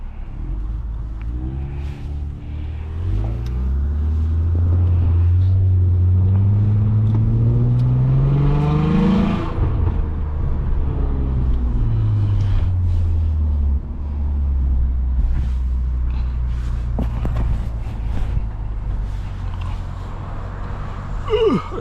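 A catless Lexus IS250 pulls away in first gear at night, its loud, close engine revving upward, easing off, then climbing again over a steady low rumble.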